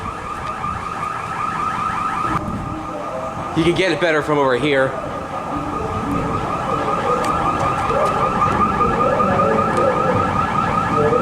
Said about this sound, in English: the burglar alarm's going off in there